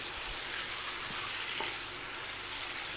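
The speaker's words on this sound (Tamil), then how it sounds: "இறா நல்லா சுருண்டு வந்துருச்சு இப்போ நல்லா வதக்கணும்" Prawns sautéing in a pan for prawn thokku, a steady close sizzle with faint stirring scrapes throughout, no talking.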